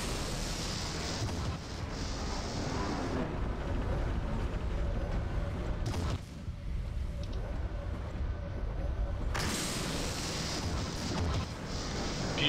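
Heavy mech weapons pounding in MechWarrior 3 online play, a dense rumbling barrage of booms and blasts that fills the whole stretch, loud and continuous with brief shifts in intensity.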